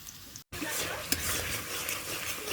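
Spice masala frying in a pan on a clay stove, a steady dense sizzle with stirring scrapes running throughout after a brief dropout near the start.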